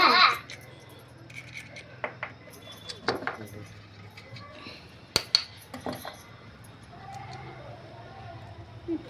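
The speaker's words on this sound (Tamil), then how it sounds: "இப்போ நான் ஒரு முட்டை உடச்சி ஊற்றிக்கிறேன்" An egg is cracked against a bowl and poured in while making a bread-and-egg snack, giving a few sharp taps and clicks spaced over several seconds amid quiet kitchen clatter and a faint voice.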